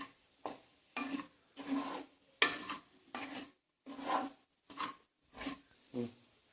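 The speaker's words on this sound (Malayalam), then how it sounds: "നന്നായി മിക്സ് ചെയ്ത് കൊടുക്കുക" Spoon scraping and stirring potato fry with coconut oil in a pan, South Indian style, in about ten separate rasping strokes with short pauses between them.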